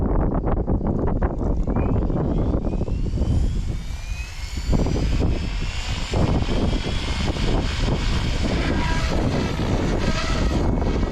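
A radio-controlled helicopter with a Spirit flybarless system spins up its rotor outdoors in gusty wind, giving a loud, continuous roar with a rising whine that builds and holds.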